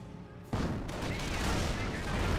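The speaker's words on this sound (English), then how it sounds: "Red's artillery getting some good hits over here." Artillery shells exploding in Company of Heroes, a burst of heavy booming blasts that begins abruptly after a quiet half-second and rolls on as a dense, continuous barrage.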